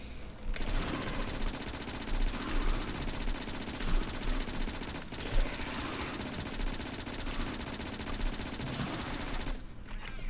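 Sustained automatic gunfire from shooting biters in Factorio, a loud, continuous rattle of rapid shots lasting around nine seconds before cutting off abruptly.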